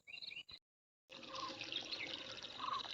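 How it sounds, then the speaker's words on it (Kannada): Water runs from a pipe in a steady splashing stream after a short pause, with a brief gurgle and faint dripping at the start. "ಪೈಪ್ ನೆತ್ತ ನೀರು"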